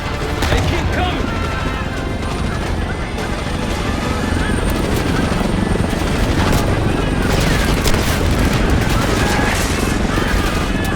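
Enemy helicopters in Call of Duty: Black Ops 6, a loud, continuous rotor roar mixed with heavy gunfire bursts and crashes in a dense battle soundscape.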